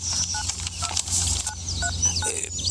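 A series of short electronic keypad tones as a phone number is dialed, beeps in an irregular rhythm over a faint background hum.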